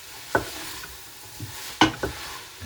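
Tomatoes and peppers stirred into onions and garlic in a pan for mussels Provençal, heard as a few scattered scrapes and clacks of a utensil against the pan over a faint background, with no talking.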